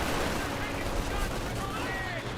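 Company of Heroes 2 gameplay: dense, continuous battlefield gunfire and explosions, including a rifle grenade, roar loudly through the whole moment.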